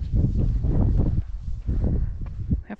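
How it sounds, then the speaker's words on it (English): Wind picking up outdoors at a petrified forest park, heard as loud, close, low gusty rumbling buffeting the microphone in uneven bursts. "The wind is starting to kick up a little bit"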